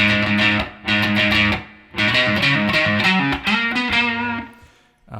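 A distorted electric guitar plays a song's main riff, in loud, chunky bursts of strummed open strings and chords separated by short breaks, repeating several times on its own.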